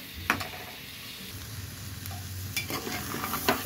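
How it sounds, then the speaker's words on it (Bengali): Khichuri frying in a pan after garam masala powder is added, a steady low sizzle with a few sharp stirring scrapes of the spoon, fairly close and moderately quiet, with no talking. "গরম মশলার গুঁড়ো দিয়ে দিয়েছি। এখন সুন্দর করে ভেজে নিচ্ছি।"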